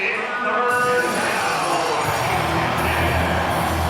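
Dense, loud stadium crowd noise from Arkansas fans at a cold night football game against Ole Miss, a steady roar with scattered whoops and yells running unbroken through the whole stretch.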